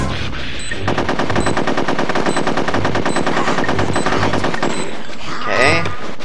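Rapid machine-gun fire in the video game Conker's Bad Fur Day rattles continuously and loudly for several seconds, mixed with game music and effects.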